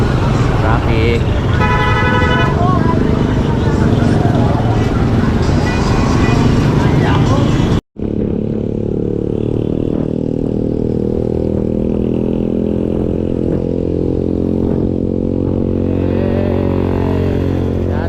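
Congested road traffic near Tanza, with motorcycle engines revving close by and repeated horn toots in the first half, then a steadier droning engine hum after a brief cut, with talk mixed in.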